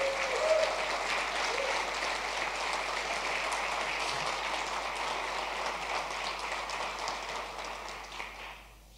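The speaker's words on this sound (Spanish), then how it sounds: "Si le va a aplaudir, apláudala con ganas" A church congregation applauding at a Spanish-language service, steady sustained clapping from many hands throughout, fairly distant and even, tapering off at the very end.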